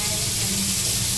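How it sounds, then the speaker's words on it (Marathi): Bombay duck fish frying in a pan at home, a steady close sizzle and hiss running evenly throughout without a break. "इथे कॅटूसाठी बोंबील फ्राय करते"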